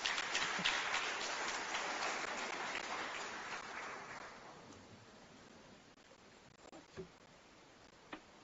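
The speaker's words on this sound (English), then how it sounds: "One more round of applause for Beatrice and Rose." An audience at a First Ladies roundtable during the UN Habitat Assembly gives sustained applause that gradually fades away, leaving a few scattered claps and quiet room noise.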